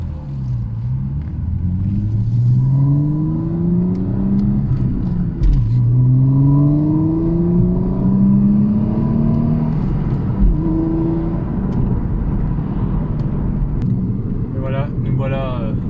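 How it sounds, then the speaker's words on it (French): A 1992 Audi Coupé Quattro V6 revving, its engine note rising and falling in smooth sweeps with small exhaust pops, heard loud from inside the car while someone talks over it. "on entend les petits retours à l'échappement"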